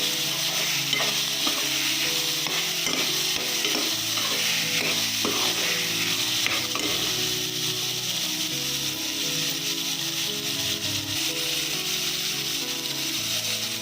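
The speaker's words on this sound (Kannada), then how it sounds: "ಬಟಾಣಿ ಹಾಕ್ತೀನಿ. ಸ್ವಲ್ಪ ಎಣ್ಣೆನಲ್ಲಿ ರೋಸ್ಟ್ ಆದರೆ ಚೆನ್ನಾಗಾಗುತ್ತೆ." Peas roast in a little oil in a pan for a pea curry, with a continuous sizzle and frequent scraping, clattering strokes of a spoon stirring close by, and no talking.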